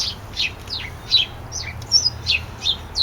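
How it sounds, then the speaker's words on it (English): An excited wild bird near peanuts set along a rail sings a rapid series of about ten bright chirps, clear and fairly close over quiet background hiss. "that bird is very excited because I put out a whole bunch of peanuts along the rail"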